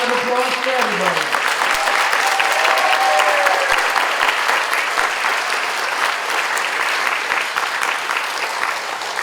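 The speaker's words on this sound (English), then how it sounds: "And a big round of applause for everybody." Sustained audience applause fills a school recognition day ceremony, steady and loud throughout, with a brief trailing voice at the very start.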